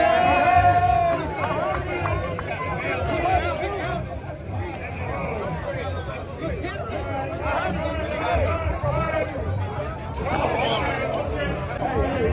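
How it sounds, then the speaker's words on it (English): A packed basketball arena crowd fills the space before tip-off with continuous dense chatter and murmur, a nearby voice rising above it now and then. "crowd is packed"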